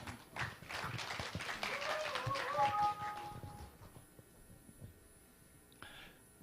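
An audience at a Korean party leadership candidates' speech event greets a candidate with a burst of clapping that swells for a few seconds, then thins out to scattered claps and quiet.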